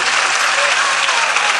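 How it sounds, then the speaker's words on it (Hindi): Loud, dense applause from a large mushaira audience at an outdoor protest gathering in Sambhal, a steady wash of clapping hands that holds evenly throughout with no talk. "एक बार जोरदार तालियां बजाएं।"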